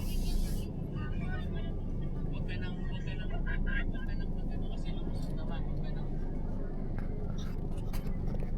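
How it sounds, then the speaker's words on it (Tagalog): Heavy road traffic near John Hay in Baguio rumbles as a steady low wash of engine noise heard from inside a moving car, with occasional faint clicks and people talking. "Sobrang traffic dito sa may John Hay palabas."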